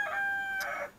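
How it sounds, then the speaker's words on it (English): A rooster kept among backyard chickens crows once, close and clear, in a drawn-out call with no talk over it. "these roosters crowing on me here"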